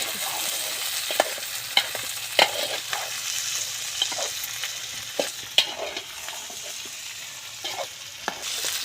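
A brinjal and egg curry with small whole eggplants is stirred in a sizzling pan, the steady fry broken by sharp spoon-on-metal scrapes and taps at an irregular pace, with no talking.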